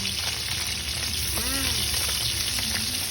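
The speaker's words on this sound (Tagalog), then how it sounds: "Eto, nagpriprito ko ng bigi." Galunggong fish frying in a pan hiss with a steady, close sizzle and a soft crackle throughout, with a faint brief clink partway through.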